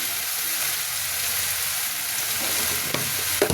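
Water and chilli powder hit a hot frying pan in a loud, steady sizzle that fills the whole stretch, with a few clinks and stirring scrapes near the end.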